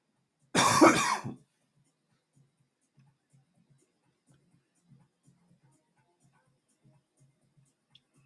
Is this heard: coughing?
yes